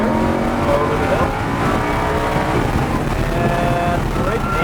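A car accelerating at NHMS, its engine steady and loud with a broadband roar and harmonic whine, while an instructor speaks throughout.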